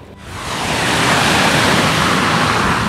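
Strong floodwater rushes across an access road, swelling within the first second into a loud, broad, continuous roar of flowing water.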